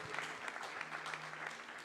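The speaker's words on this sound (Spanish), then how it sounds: "¿Cuánto lo aplauden a Él?" A church congregation gives a quiet, sustained round of applause during a Protestant sermon, the clapping soft and distant, forming an even wash of many hands with no voice above it.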